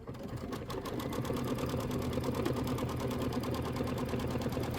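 A sewing machine runs steadily through a tack-down stitch on a quilt block, its needle pattering in a fast even rhythm that holds at a constant level close by with no talking.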